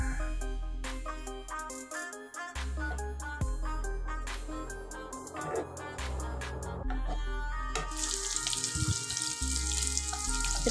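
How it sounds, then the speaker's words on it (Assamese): Paneer cubes fry in a pan, giving a steady crackling sizzle that grows brighter and louder toward the end, set beneath continuous background music. "পনীৰখিনি সব এতিয়া ভাজি লোৱা হৈ গৈছে"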